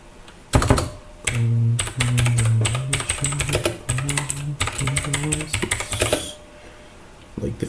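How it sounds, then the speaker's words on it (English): Fast, steady typing on a computer keyboard, a close, dense run of clicking keystrokes that lasts several seconds with brief pauses, alone without talk. "So let me type that for you."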